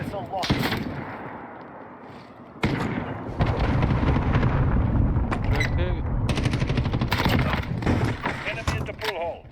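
Explosions and heavy gunfire from an allied missile strike in Call of Duty rumble and rattle continuously, loud and close, with game voices and effects layered over the barrage.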